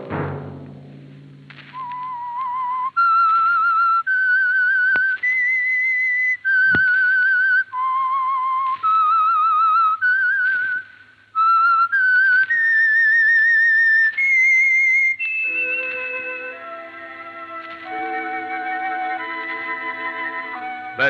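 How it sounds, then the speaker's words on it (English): A lone whistler carries the eerie theme tune of the radio mystery show The Whistler, clear, loud and melodic. Sustained notes leap between phrases, then an orchestral accompaniment takes over at the end. "Let that whistle be your signal for the Signal Oil program, The Whistler, each Sunday night at this same time."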